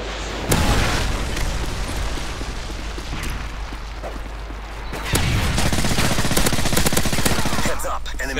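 Modern Warfare 3 multiplayer match after a friendly Predator missile call: a sharp blast near the start and another around five seconds in, over continuous rattling gunfire and booms, loud and close throughout.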